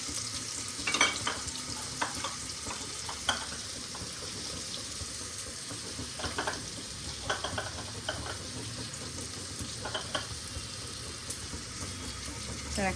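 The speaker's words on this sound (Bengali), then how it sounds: "এখন এটাকে একদম হাই হিটে পেঁয়াজটাকে ভালো করে ভাজবো।" Onions fry on high heat, a constant dense sizzle with scattered stirring scrapes and clicks, close up, with faint background noise and no clear talk.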